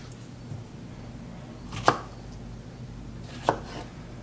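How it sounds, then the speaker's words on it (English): A knife chops strawberries on a cutting board in a home kitchen while a pie is being made: two sharp, distinct knife strikes about a second and a half apart, over quiet background hum. "then we will start chopping our strawberries"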